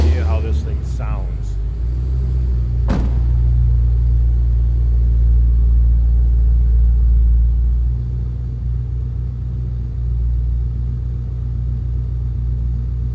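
A 2010 Ford Mustang Roush Stage 3 coupe with a supercharged V8 idles, a loud deep rumble close by that holds steady throughout, with a brief voice at the start.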